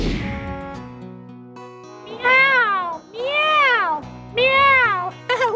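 A person gives three drawn-out, rising-and-falling imitations of a cat's meow at a Halloween pumpkin farm, loud and close, with a short vocal sound at the end.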